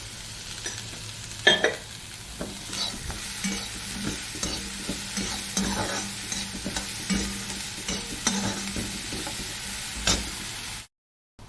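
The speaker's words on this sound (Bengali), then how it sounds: "ভালো করে এটাকে ভেজে নেব" Ingredients frying and being stirred in a pan for upma, with a continuous sizzle and repeated scraping strokes of a spoon, fairly close, with no talking.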